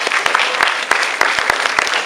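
Audience applause at a Malay-language religious talk on married life, a dense steady patter of many hands clapping with scattered sharper claps standing out, fairly close and continuous throughout.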